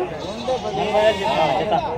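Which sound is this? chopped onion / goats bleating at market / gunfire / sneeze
goats bleating at market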